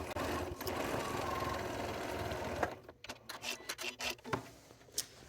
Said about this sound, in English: I'm just going to stitch along my seam